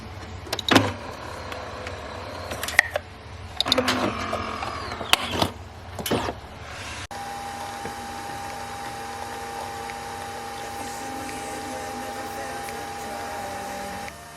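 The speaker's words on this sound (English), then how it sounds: "I'm going to brew the pod on top before we put the ice" Pod coffee machine brewing for an iced latte: a few clicks and clatters, then a steady close mechanical whirring hum with a faint tonal whine that runs continuously to the end.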